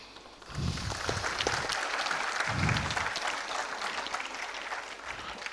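A graduation convocation audience claps in a sustained round of applause, moderately distant and steady, with a few louder thuds mixed in.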